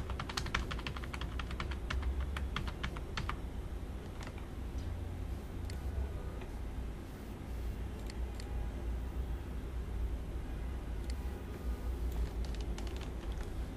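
Fast typing on a computer keyboard, with crisp key clicks in quick bursts over a steady background hum, busiest at the start and then scattered more sparsely.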